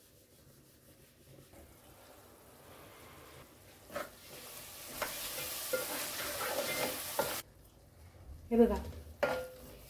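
Masala for Kokani mutton sagoti fries in a pan, rising from quiet to a fuller sizzle with intermittent spoon scrapes and knocks, and a brief spoken remark near the end.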